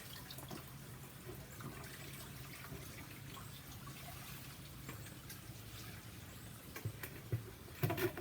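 Tap water runs steadily into a sink as torn salad greens are rinsed, a soft continuous splash with a few louder splashes and clatters near the end.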